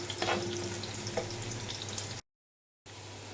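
Sliced onions sizzling and frying in a pan for chana dal pulao, a soft steady crackle with a few stirring scrapes, close but fairly quiet, briefly cut to silence.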